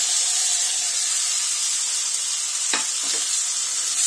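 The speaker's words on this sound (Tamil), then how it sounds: "இப்போ நம்ம வெட்டி வச்சிருக்கிற இந்த தக்காளியை இது உள்ளார சேர்த்திடலாம்." Chopped tomatoes sautéing in a pan with onion and garlic for a grandma-style vendaikai puli kulambu: a steady close sizzle with a few brief stirring scrapes near the end.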